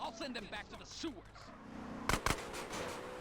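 Two quick, close gunshots ring out in GTA San Andreas after a stretch of talking, set against a steady background hum.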